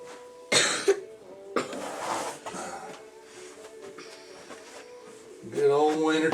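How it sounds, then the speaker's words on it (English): Someone coughs several times during a winter session laying HO model railroad track and roadbed, with harsh bursts close to the mic. There is some throat clearing and a little speech near the end. "Good old wintertime coughs."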